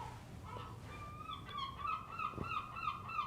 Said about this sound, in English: That would be the seagulls, because we're near the sea.